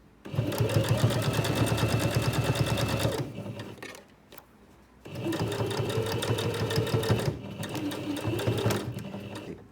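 A sewing machine stitches an iPad mini cover with wadding at a 2.5mm stitch length, running in two long steady bursts of rapid, close mechanical chatter with a brief pause between.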